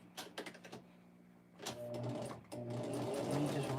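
A sewing machine back-stitching a pocket tissue pack cover: a short burst of rapid stitching, a pause, then longer steady whirring runs with a brief break, close and fairly quiet.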